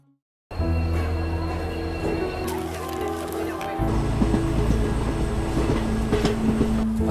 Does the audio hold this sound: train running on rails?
yes